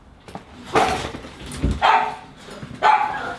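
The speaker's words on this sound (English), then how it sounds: "I've got some crazy dogs to deal with" Dogs bark in three loud bursts about a second apart, close by, with no talking in between.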